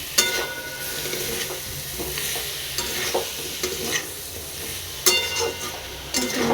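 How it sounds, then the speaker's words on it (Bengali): Curry being sautéed with salt in a pan: a steady oily sizzle with repeated scraping stirs of a spatula, sharper clanks near the end, no voices. "লবণ অ্যাড করে দিলাম এটাকে একটু কষিয়ে নিই"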